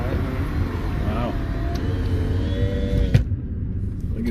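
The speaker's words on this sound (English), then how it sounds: "Oh my God, this car runs so quiet." A 1998 Honda Civic engine idles quietly after an AMSOIL oil change, a low steady rumble with a faint sharp tick near the end, heard beneath a voice.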